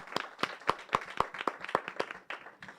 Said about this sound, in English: Can we please give our panelists another round of applause?